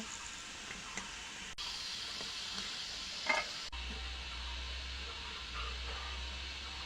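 Kati gaja sweets frying in hot oil, giving a steady close sizzle and hiss with occasional stirring clinks, continuous and alone.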